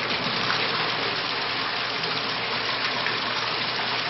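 Water rushes steadily through a Bradley Navigator thermostatic mixing valve at eye-wash flow, a constant loud hiss with no breaks.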